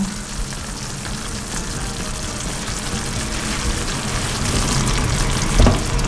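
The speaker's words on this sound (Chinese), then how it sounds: "把它炒匀" Carrots and creamed corn stir-fried in a pan, a steady moderate sizzle with scraping and stirring throughout, growing slightly louder toward the end with a brief burst near the close.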